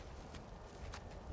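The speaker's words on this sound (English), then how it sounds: "Let's get the horses" Horses walking in the game Skyrim, two soft hoof clops over a dense ambient wash, brief and moderately close.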